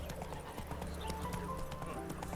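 Roach, the horse in The Witcher 3: Wild Hunt, gallops with rapid, rhythmic hoofbeats that ring close and clear over steady game ambience.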